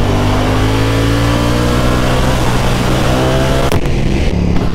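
A Ducati Panigale V4 (2018) sport motorcycle engine, 214 horsepower, revs hard and close, its pitch climbing steadily in a loud, sustained roar before a sudden shift.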